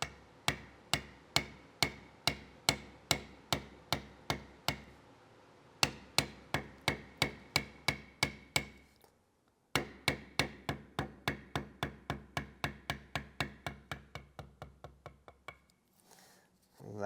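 A beveling tool is struck repeatedly into tooling leather, giving steady, sharp mallet taps in quick even runs of a dozen or more, with a couple of brief pauses, close and clear.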